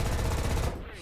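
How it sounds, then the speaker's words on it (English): Aircraft strafe with machine guns in War Thunder: a continuous, dense rattle of rapid fire fills the whole second, loud and close, then thins slightly at the end. "Oh god, they're both strafing me."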